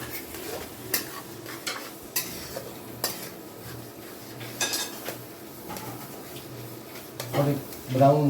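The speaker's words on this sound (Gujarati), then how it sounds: "તળવા દેવું ધીમા તાપે" Onion and garlic gravy cooks in a pan over low heat for pav bhaji, with a spoon stirring and scraping the pan and clinking against it. Soft, steady sizzling continues under the stirring, with louder scrapes near the end.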